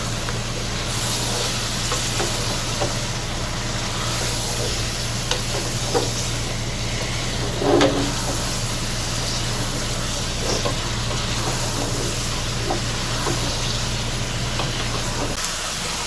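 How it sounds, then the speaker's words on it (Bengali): Vegetables, bottle gourd greens, stir-fry in oil over high heat, a loud continuous sizzle and hiss close by, broken by occasional scraping and stirring knocks, with a low steady hum underneath and no talking. "সবজিটা এখন আমি হাই হিটে 5 মিনিট এভাবে কষিয়ে নেব।"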